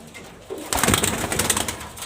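A pair of young pigeons offered for sale coo and stir nearby, quiet at first, then a sudden fuller burst of calls and rustling that continues to the end.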